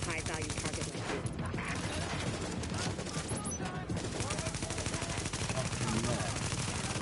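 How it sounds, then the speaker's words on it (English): Rapid bursts of automatic gunfire from the shooter Tom Clancy's The Division crackle almost continuously in dense volleys, with the action staying fairly quiet overall. "With all that gunfire drawing the Riker's attention, you're gonna have a nice fat bullseye on your back."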